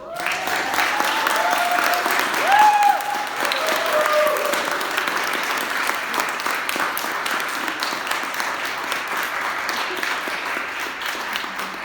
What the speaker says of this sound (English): Let's have a round of applause for our brilliant MC.